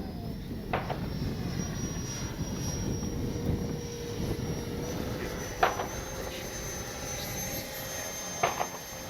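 A Freewing Banshee RC jet flies overhead with a steady, thin engine whine that drifts at a distance over a low rushing background, broken by a few sharp clicks, with no one talking.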